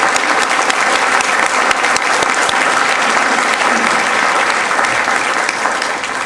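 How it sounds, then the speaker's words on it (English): Sustained, loud applause from an audience at a school district board meeting, dense and even throughout with no pauses. "if we could just one more time give these people a great round of applause"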